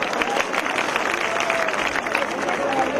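A hall audience at a party workshop in Khilgaon, Dhaka applauds to welcome a political leader, giving a continuous rustling wash of clapping with crowd murmur underneath, moderately loud and sustained throughout.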